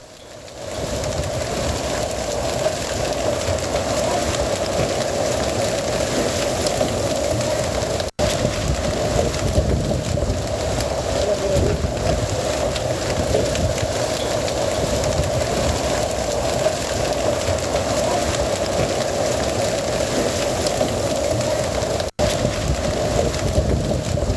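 Hail and rain pour down during a hailstorm in Gudiyatham, a constant loud, dense hiss and patter that runs unbroken for the whole stretch apart from two brief cuts.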